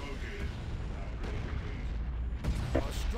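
Artillery strike slamming onto a power farm in a real-time strategy match, a dense rumbling barrage of booms and impacts under a commentator's continuous voice.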